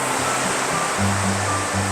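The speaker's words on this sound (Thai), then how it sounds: "ก็จะมีลำธารเนี่ย ไหลผ่าน ทะลุตรง อุโมงค์ถ้ำเนาะ ไหลออกไปนะครับ" Steady rushing water of a clear stream flowing through a cave tunnel fills the clip, a constant loud flow with a faint low hum underneath.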